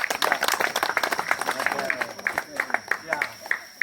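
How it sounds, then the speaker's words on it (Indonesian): A church congregation at a Christmas service claps together, a short burst of brisk, uneven applause with voices mixed in. "Tepuk tangan dulu."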